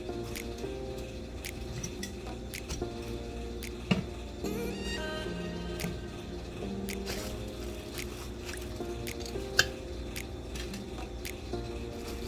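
Oxtails, about four pounds, are placed into a slow cooker on a bed of onions, giving soft wet squishes and occasional light clinks against the pot, with a faint musical backdrop running throughout.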